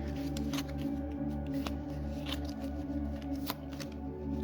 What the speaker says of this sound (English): I'm going to shuffle this for you guys.